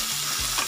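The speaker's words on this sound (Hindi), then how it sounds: "तो थोड़ी देर और हम भून लेंगे" Vegetables with chilli powder, cumin powder and turmeric frying in oil for a home-style veg sabzi, a close continuous sizzle with a brief stirring scrape, no voices.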